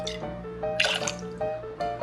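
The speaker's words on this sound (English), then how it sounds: "So technically we're going to pour the same 1 ounce of vermouth, just we're going to mix 2 different vermouths" Vermouth pouring into a mixing vessel for a Manhattan cocktail, heard as several short, close trickles and splashes with brief pauses between them.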